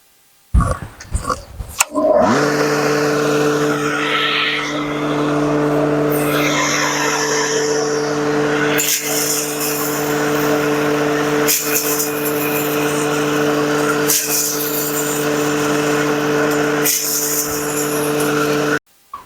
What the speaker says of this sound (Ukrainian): Хміль я перебив два рази.